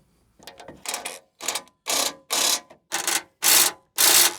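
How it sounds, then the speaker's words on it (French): A socket wrench ratchets bolts loose from a 4x4's bumper, producing eight bursts of crisp clicking, close by, each a short ratcheting stroke separated by brief pauses, growing louder toward the end. "Je vais m'attaquer au déboulonnage du pare-choc."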